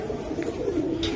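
Colored pigeons coo in a low, continuous burble close by, one brief stretch with faint background noise.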